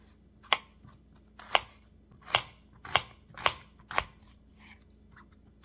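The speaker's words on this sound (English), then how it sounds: "I'm not going to have a ton of onion in this baked ziti, but I'm going to cut it up" Knife dicing an onion on a cutting board for baked ziti, six sharp separate chops at a slow, uneven pace, close and fairly quiet with little else around.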